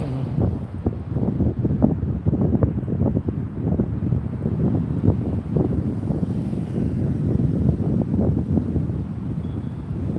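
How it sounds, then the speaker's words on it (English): Gusty wind blows up an alley straight into the microphone, producing a loud, constant rumbling buffet with no voices. "we have some wind coming up the alley, so let me move forward a little bit so the mic won't be quite so noisy"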